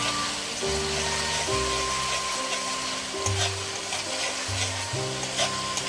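Garlic frying in a pan over a low gas flame for a chicken kosha, a steady close sizzle with soft stirring scrapes throughout, no voices.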